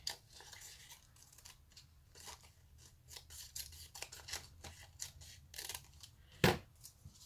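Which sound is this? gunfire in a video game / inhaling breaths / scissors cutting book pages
scissors cutting book pages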